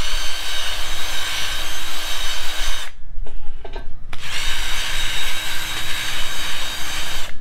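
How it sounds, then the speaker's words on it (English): A drill spinning a wire brush scrubs a tire wheel during a tire change, a loud, close, continuous whirring grind that cuts out briefly midway and then resumes. "Just a wire brush and a drill."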